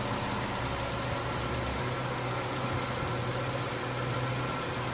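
A first-generation Honda CR-V engine idles steadily after being restarted, a constant low mechanical hum with a faint whine running evenly throughout, close by and with no voices.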